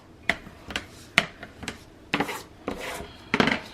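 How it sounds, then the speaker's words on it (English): Leather edges burnished by hand, a series of short rubbing strokes, roughly seven or eight brisk rasping swipes spaced unevenly, close and fairly quiet with no talking. "So I'll burnish these real quick."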